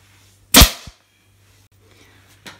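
A pneumatic air-pressure staple gun fires once, a sharp close snap fixing wadding to a dining chair being restored. A faint second click follows near the end, with quiet room noise between.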